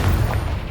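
A Confringo explosive spell in the video game Hogwarts Legacy lands as a short, loud, deep boom with a rumbling low-end burst.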